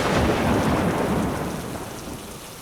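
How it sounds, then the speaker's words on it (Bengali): Heavy village rain pours during a cremation-pyre scene in a horror animation: a dense, roaring downpour with thunder rumbling beneath, loud at first and easing slightly toward the end, no voices. "আজ মনে হচ্ছে বৃষ্টি থামবে না।"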